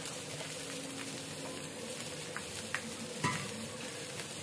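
Washed, soaked rice is fried in a spoonful of ghee inside a pressure cooker for veg biryani, a low, steady sizzle with a few soft stirring knocks and one sharper clink near the end.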